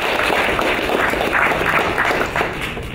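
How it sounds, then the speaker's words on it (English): Applause for the runner-up teams at a hackathon closing ceremony fills the room as a dense, steady wash of clapping, loud and continuous for the whole stretch before easing slightly at the end. "So let's give them a round of applause as well."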